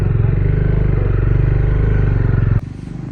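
A motorcycle engine on a mountain ride from Chitkul to Kaza in Spiti thrums close and loud with a steady pulsing beat, dropping to a quieter, thinner rumble near the end.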